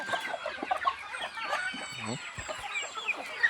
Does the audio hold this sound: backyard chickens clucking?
yes